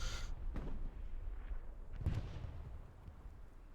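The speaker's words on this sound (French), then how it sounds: "nice grenades" A couple of dull, booming grenade blasts go off in a competitive shooter match, a short burst at the start and a stronger thud around the middle, heard faintly beneath low background noise.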